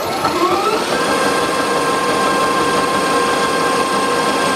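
A Bridgeport mill running at 350 RPM cuts a spur gear with an involute cutter, giving a steady close mechanical whir with a constant tone throughout and no talk.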